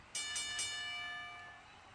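A ringside bell sounds at the start of a wrestling match at a live event, three quick rapid strikes followed by a long ringing decay, loud and close with no talking over it.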